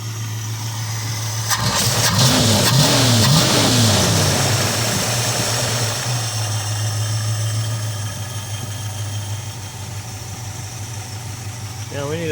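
A 1969 Dodge Dart GT V8 waking after long storage, its engine rising in a loud rev then settling back to a rough, steady idle, with someone talking over it.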